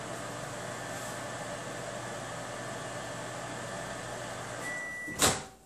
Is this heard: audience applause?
no